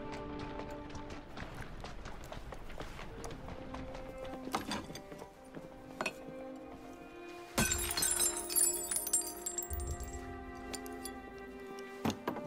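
Glass shatters in a cutscene from the Assassin's Creed Syndicate video game, a bright crash over a continuous musical score, with a burst of shards and tinkling debris that trails off.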